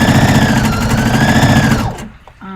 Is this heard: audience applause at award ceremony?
no